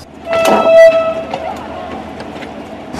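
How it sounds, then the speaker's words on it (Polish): Narrow-gauge steam train of the Koszalin line setting off at midnight during a Museum Night event, a short bright whistle toot at the start followed by a fading rumble and clatter of the departing cars. "Specjalnie na tę okazję o północy ruszyła ciuchcia do Bolina."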